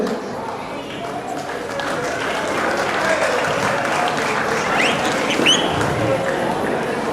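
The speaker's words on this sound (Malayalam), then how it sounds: "കയ്യടി നൽകി ഇവരെ അനുഗ്രഹിക്കേണ്ടതാണ്" Audience applause at a stage award ceremony, a steady dense wash of clapping lasting throughout, moderately loud with a slight swell toward the end.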